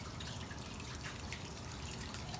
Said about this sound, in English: Dump it in a bowl through a strainer.